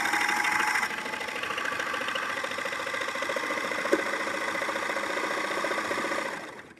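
A serger sewing machine runs steadily for several seconds to start a thread chain, a close, even mechanical whir with rapid rhythmic stitching and one brief click near the middle before it slows and stops.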